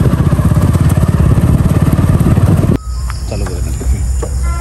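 A motorcycle rides along a jungle hill trail in Sylhet, its engine loud and close with a fast pulsing beat before cutting off abruptly, leaving insects and rustling outdoor sounds.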